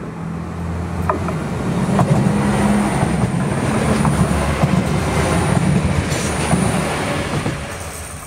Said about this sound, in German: Hier zu sehen die Ausfahrt aus dem Bahnhof Neandertal in Richtung Düsseldorf.